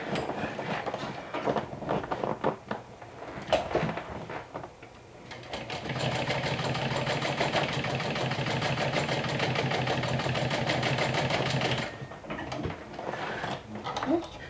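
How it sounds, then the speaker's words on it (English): A sewing machine stitches down a bag strap with a fast, steady mechanical whir of rapid needle strokes lasting about six seconds, framed by handling noises and a person talking before and after. "And then go ahead and stitch it down."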